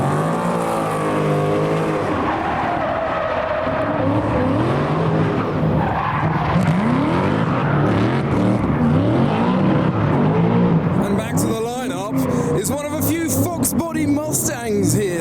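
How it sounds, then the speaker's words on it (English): A Ford Mustang puts on a drift demonstration for a large crowd at the SEMA show, its tires squealing and engine roaring in long continuous slides while someone talks over the noise. "we've got a Mustang putting on a drift demonstration to the vast crowd"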